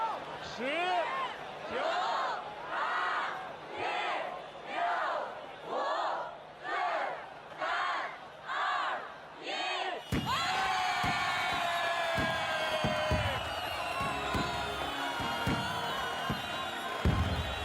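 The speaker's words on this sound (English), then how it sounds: "There's a lot of cheering going on." A crowd gathered to watch an Olympic opening ceremony chants in about nine rhythmic unison bursts, then erupts into loud, sustained cheering and shouting.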